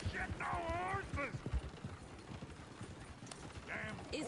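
Horse hooves clip-clop in Red Dead Redemption 2, a western video game, with a possible whinny, mixed under loud, overlapping in-game talk and other game noise throughout.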